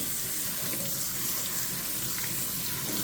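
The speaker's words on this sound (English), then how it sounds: "Once you've washed your rice" Rice being washed under a running kitchen tap, a steady continuous rush of water into a sink with no pauses, close and fairly loud throughout.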